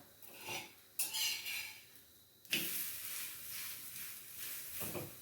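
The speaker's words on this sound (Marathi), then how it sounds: "आता आपण उलटून बघूया, म्हणजे थालीपीठ झालं का." Radish thalipeeth flatbread being flipped on a pan, a few scraping metal clinks and spatula scrapes against the pan over a soft background hiss, close and moderately loud.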